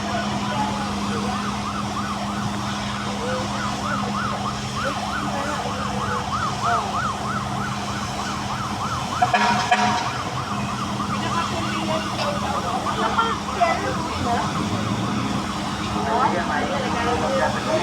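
A fire truck siren wails continuously in a fast warbling pattern during a market cleanup in Divisoria, Manila, loud and steady over street noise and engine rumble.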